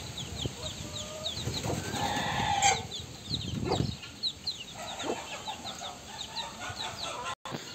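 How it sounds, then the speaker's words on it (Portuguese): Chickens and chicks cluck and peep close by on a farm, with many overlapping calls and a few louder squawks, while a person talks intermittently among them. "E eu levando aqui os pintinhos, gente, as galinhas, as galinhas tudo vindo pra cima"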